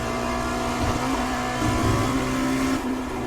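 A Dallara P217 LMP2 prototype racer in iRacing at Watkins Glen, its engine droning steadily and loudly as it pulls hard in fourth gear, a continuous close whine with a slight rise partway through.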